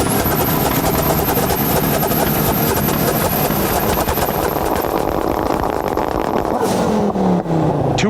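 An Audi RS3 turbocharged five-cylinder engine roars loudly and continuously up close, a dense, harsh drone with a thin high whine on top that drops away near the end.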